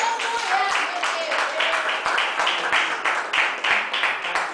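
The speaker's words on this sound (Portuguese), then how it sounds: "As palmas ao Senhor" A church congregation at an Assembly of God service claps together, a dense, steady wash of palms with regular accented beats, close and loud throughout, over a faint sustained tone.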